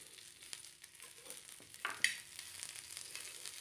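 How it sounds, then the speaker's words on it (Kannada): Ingredients for ridge gourd chutney, with grated coconut, sizzle softly in a pan: a quiet, steady crackle with a brief, brighter spurt of hiss about halfway through. "ಚೆನ್ನಾಗಿ ಫ್ರೈ ಆಗಲಿ"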